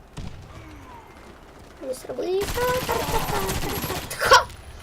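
Gunfire in the video game Warface: a dense burst of rapid automatic fire begins partway through and rattles on for about two seconds, sitting under someone talking in Russian, with a louder clank near the end.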